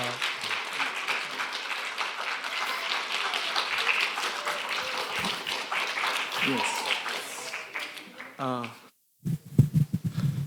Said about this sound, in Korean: 우리 나오실 때 뜨거운 박수로 환영을 해 주십시다.